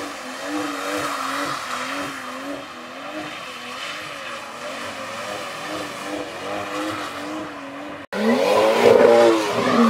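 A huge truck's engine drone in GTA 5 hums with wavering pitch, then jumps to a louder, rougher roar near the end, with no voices.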